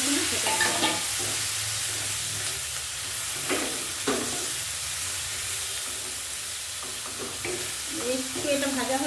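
A prepared spice paste sizzles in hot oil in a pan for a fish curry, a constant hiss with scattered scraping stirs and soft knocks against the pan.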